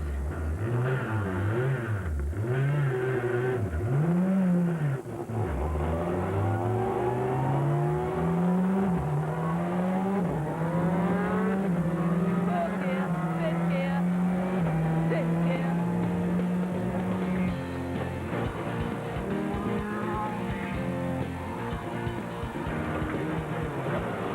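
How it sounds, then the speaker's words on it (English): Ford Focus World Rally car with a sequential gearbox, its engine note climbing and dropping through gear changes, loud and continuous from inside the car for over twenty seconds. "my first gear change in my Ford Focus World Rally car"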